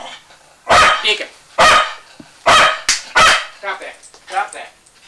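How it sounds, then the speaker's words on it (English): A dog barks loudly and close by, a series of four or five sharp, spaced barks followed by a couple of softer ones, sounding alone with no talk over it. "Stop that barking."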